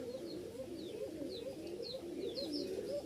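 A pair of Rajshahi highflyer pigeons coo in low, throaty murmurs close by, with faint higher chirps from other birds scattered over the top.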